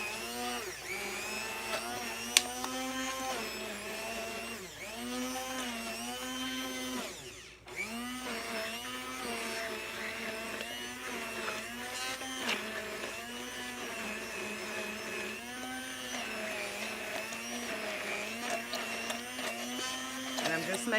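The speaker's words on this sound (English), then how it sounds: "I'm gonna use my immersion blender to sort of make a slurry with it." A handheld immersion blender whirs steadily through a thick chalk paint slurry of paint and powder, running continuously at close range with slight pitch wobbles as it moves along the bottom of the container.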